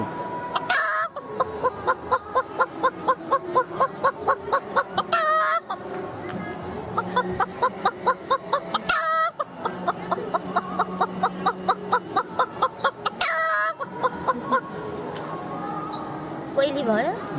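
A girl imitates a chicken with her voice, producing steady runs of close, loud clucking bursts with short pauses between groups, lasting throughout.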